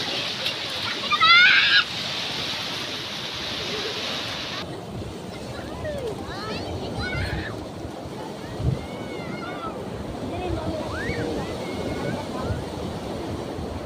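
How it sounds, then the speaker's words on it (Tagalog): High ocean waves at a beach in Agno, Pangasinan: continuous roaring surf with gusty wind buffeting the microphone, loud and close, while people shout and talk over it throughout. "Mataas yung alon."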